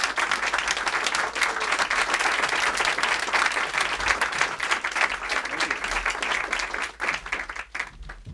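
A lecture audience applauds to welcome humor writer Dave Barry, loud and sustained clapping across the whole hall that thins out slightly near the end.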